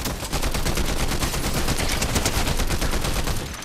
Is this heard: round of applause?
no